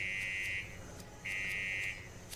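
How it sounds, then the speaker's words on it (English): An alarm is tested in the video game Fallout 76, sounding as two long, steady electronic buzzer blasts separated by a short gap, clear and fairly close against a quiet background. "Protect Steelheart while he tests the alarm."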